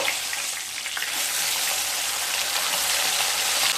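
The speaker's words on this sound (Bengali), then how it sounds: "একটা সাইড মাছ ভাজা হয়ে গেছে, এবার উল্টে দেব।" Parshe fish fry in oil in a pan as they are turned over, giving a continuous loud, crackling sizzle close up with faint scraping through it.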